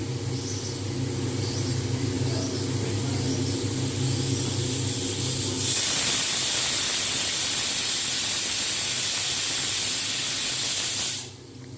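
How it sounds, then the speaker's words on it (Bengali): A pressure cooker of soaking chana dal sits on a full flame, its whistle blowing as a loud, steady hiss of escaping steam that swells midway and cuts off abruptly near the end. "আরও একটা সিটি হবে একটা কি দুটো যাই হোক তার জন্য আমি একটু অপেক্ষা করছি"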